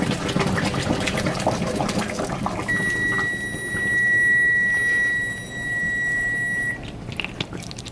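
Hot liquid with tapioca pearls is poured from a pot into a colander in a kitchen sink, making a steady rushing, splashing wash. A sustained high electronic whine sounds over the middle of the pour.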